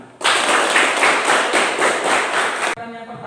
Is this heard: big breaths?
no